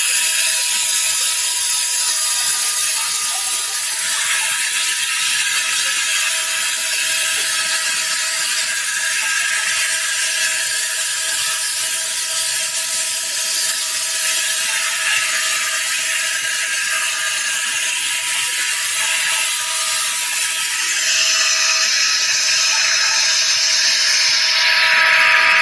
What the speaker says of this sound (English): You can see he's got his mist cooler on, and he's engraving in aluminum.